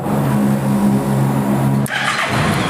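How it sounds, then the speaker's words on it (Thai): A 2015 Honda NC750X motorcycle engine with DCT gearbox runs steadily with a low hum, then cuts sharply and restarts with a brief rising rev near the end. "เดี๋ยวขออนุญาตกดสตาร์ทรถให้ฟังเสียงกันเลยดีกว่าครับผม"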